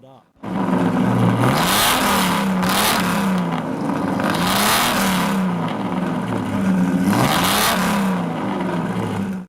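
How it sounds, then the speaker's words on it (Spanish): A Lamborghini Jarama engine revs hard as the car accelerates, pitch climbing and falling in repeated loud sweeps like gear changes, steady and close throughout. "Suena como si estuviera clasificado para el Le Mans cada vez que acelera."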